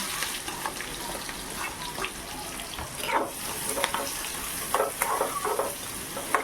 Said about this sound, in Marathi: तेल गरम होत आलेलं आहे तर मी घालणार आहे पहिलं लसूण लसूण कांदा घालूया आपण